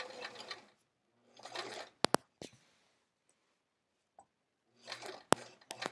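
A sewing machine back-tacking on a travel art folio, short bursts of whirring stitching separated by silences, with sharp clicks and faint handling sounds between the runs.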